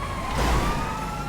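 A video game police siren wails briefly, its rising tone sweeping over a background of engine rumble.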